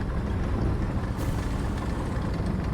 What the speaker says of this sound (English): I do hear engines front.